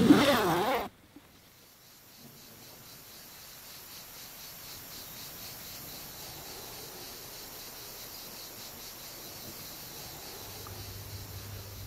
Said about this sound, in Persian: زیپ رو ببندیم